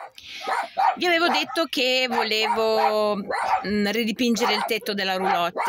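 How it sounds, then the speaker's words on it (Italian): Dogs at a campsite bark as someone walks past the caravans, their calls mixed in beneath someone talking steadily close to the microphone. "Se sentite abbaiare perché c'è quello che sta girando un attimo il campo e allora loro fanno la guardia"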